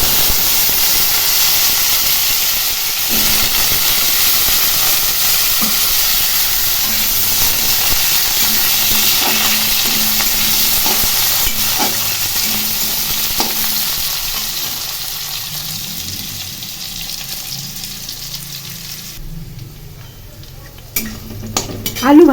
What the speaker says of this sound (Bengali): এখন এর মধ্যে আলুগুলো দিয়ে ভেজে নেব